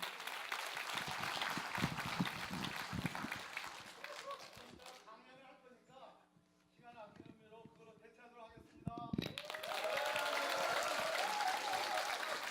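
An audience at a Democratic Party policy briefing in Daejeon applauds to welcome a speaker, a loud burst of clapping that fades as a voice speaks over music, then swells again into sustained applause.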